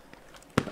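Frag grenade going off in the military shooter Squad: a single short, punchy blast near the end, after faint distant pops, with no talking.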